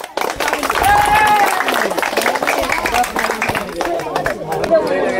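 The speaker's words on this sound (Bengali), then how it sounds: "দর্শক বন্ধু, তার জন্য আমার ছোট্ট বন্ধুর জন্য হাততালি।" An audience applauds for a child contestant at a football cage challenge game show, steady clapping mixed with crowd chatter and shouting voices throughout.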